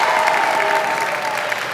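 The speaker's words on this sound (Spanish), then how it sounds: "¡Un aplauso!" Audience applause at a televised gala final of a town beauty contest, a dense, steady wash of clapping that holds at an even level throughout, with no voices over it.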